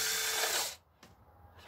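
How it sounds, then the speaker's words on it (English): A power drill bores through a resin-topped guitar body, a loud whirring grind that cuts off abruptly partway, leaving a faint residual hum. "because your drill's obviously wandered."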